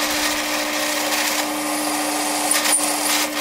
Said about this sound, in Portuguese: Broca de 12 milímetros instalada. Agora é só